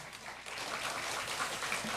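A church congregation at a mothers' prayer meeting applauds to welcome the pastor, a steady, moderately distant wash of clapping filling the hall without a break.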